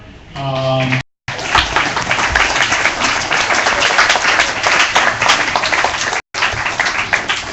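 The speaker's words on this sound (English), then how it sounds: "Bikesh, Swimming, Calvin, Zhenshu, and SK, so that you guys can clap for them" A crowd breaks into sustained, dense applause after a voice briefly speaks, the clapping loud and steady for several seconds.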